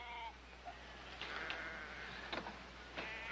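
Sheep bleat faintly at a distance in a classic western TV scene, with a few short, wavering cries over a quiet, hissy background.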